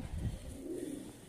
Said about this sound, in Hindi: अच्छे कबूतर उस्मान साहब ने अच्छा शौक कर रहे हैं।